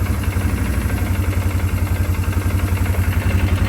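A quad ATV engine runs with a loud, rough, pulsing idle, a fast steady throb all the way through and close to the mic.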